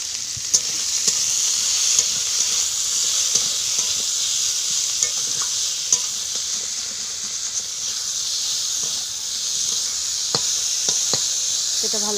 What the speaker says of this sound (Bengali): সব এটাকে ভালো করে ভাজতে হবে। এতে দিয়ে দেবো একটু হলুদ দেবো, লবণ দেবো, দিয়ে এটাকে ভালো করে ভেজে নেব।